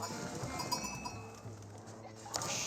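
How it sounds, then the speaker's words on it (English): Sheep bleating in the Age of Empires 4 strategy game, a few faint bleats over a low busy game background, with clinking chimes and bell-like tones scattered through. "I hear some sheep being collected up as well."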